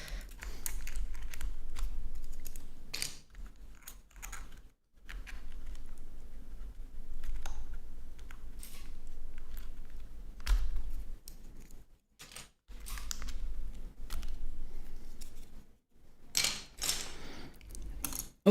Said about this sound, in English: With the switches, with the clicky switches